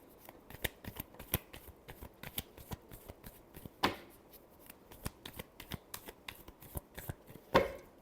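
Tarot cards shuffled by hand in a steady run of quick, crisp riffling bursts, close and fairly quiet, with a couple of louder snaps near the middle and end.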